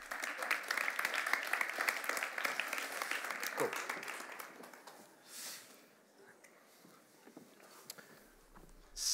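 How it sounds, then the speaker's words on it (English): Audience applause greets the Dutch Ambassador to Germany as he is welcomed onto a stage. The clapping is dense and steady for about four seconds, then thins out into scattered claps with faint murmur. "let's have a warm round of applause for Ronald van Roeden."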